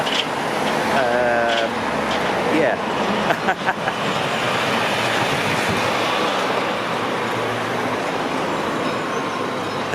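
A train passing a level crossing in Southampton, a steady loud rumble filling the whole stretch, with a few sharp clanks and a brief tonal squeal near the start.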